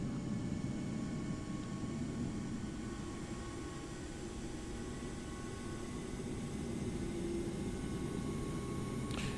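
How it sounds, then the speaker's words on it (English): A Boeing 737 MAX engine in a flight simulator starts up as a steady low rumble and whine with faint tonal hums, holding constant and fairly quiet throughout with no talk. "And starting engine number 2."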